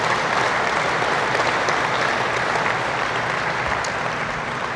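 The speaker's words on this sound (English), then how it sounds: "I think they deserve a round of applause for that." An audience at an aviation speaker event breaks into applause, with a loud, dense, continuous wash of clapping that holds steady throughout.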